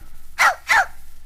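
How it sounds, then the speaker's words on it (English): Two quick, bright barks from Lady, the cocker spaniel of Lady and the Tramp, close and clear over a faint hum. "just turn the page whenever you hear Lady bark"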